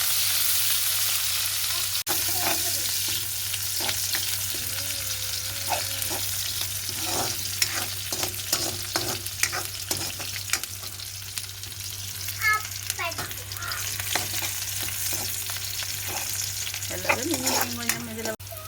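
Chopped onions frying in hot oil in a Tamil home kitchen, a steady close sizzle punctuated by frequent scraping and clattering stirs of a spoon against the pan, continuous with no talk.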